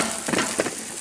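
Zucchini cooks in a pan for a sausage and vegetable frittata, giving a brief close sizzle with a couple of soft stirring scrapes.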